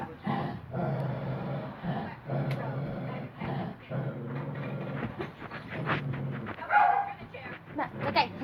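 A dog barks in short bursts amid lively conversation, with a rolling, train-like clatter underneath throughout.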